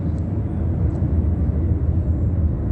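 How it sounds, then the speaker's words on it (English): A recording of an airplane flying over, played back from a tape while an aircraft is overhead, gives a steady, full low rumble that holds loud and even throughout with no voices. "pressing play on a tape of a sound of a plane while the state was already hovering in an aircraft as it flies over."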